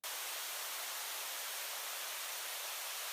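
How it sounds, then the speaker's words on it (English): A constant hiss of bright white noise used as a music production layer, even and unbroken from start to finish, with the deep low end filtered out. "So next I put a white noise"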